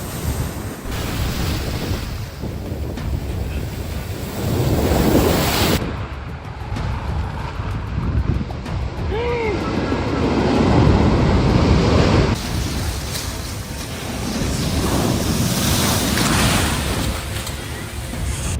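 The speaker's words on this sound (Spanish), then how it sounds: "ustedes vean la magnitud de las olas que simplemente se acercan a la orilla" Ocean waves surge and break near the shore at a dangerous beach in the Dominican Republic, a loud continuous rumbling wash with heavy wind buffeting the microphone throughout.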